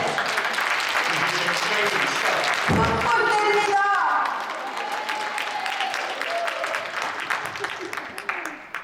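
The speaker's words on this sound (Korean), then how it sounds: "박수 때립니다." A church congregation at a prayer gathering breaks into sustained applause, a dense wash of clapping that carries on for several seconds before fading.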